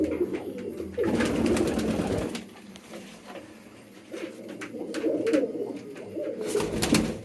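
Pigeons cooing nearby in repeated throaty bursts, with a brief pause midway before the cooing resumes, loud and close, no talking.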